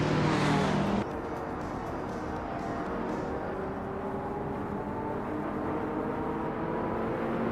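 Race cars in a racing video game roar steadily at close range, with engine drones rising in pitch and overlapping. A sharper, louder burst opens the sequence.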